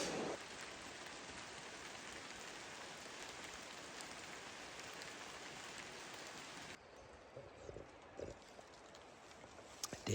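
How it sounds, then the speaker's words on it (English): Heavy rain pours steadily in a rainforest as a dense, loud hiss, then eases abruptly to lighter patter with scattered drips and splashes. "rain is coming down sideways."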